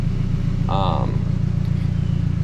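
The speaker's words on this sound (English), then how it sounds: "Don't mind the 240 idling in the background" A 240 car idles under the talk, its steady low engine rumble running through the whole stretch at close range while a short voiced sound rises briefly near the start.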